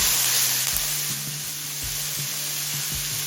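Ingredients fry with salt in a pan for home-made mixed chow mein, producing a loud continuous sizzle with a few soft knocks and scrapes as they are stirred.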